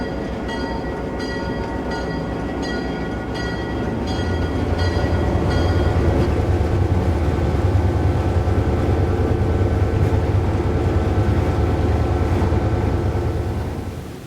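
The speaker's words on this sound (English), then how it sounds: "Mike is now in the 1835 engine, an ex-U.S. Army GP7." An ex-U.S. Army GP7 diesel locomotive rumbles along the track with a heavy, steady engine drone and rolling rail noise that swells slightly and stays loud and close throughout.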